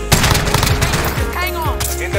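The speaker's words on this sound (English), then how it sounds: "I got a machine gun." Machine gun fire in a video game comes in rapid, loud bursts of close shots, several volleys crackling in quick succession over about two seconds.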